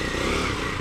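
A small Honda CG 160 motorcycle engine drones steadily nearby for a brief moment, a buzzy continuous running sound with no voices.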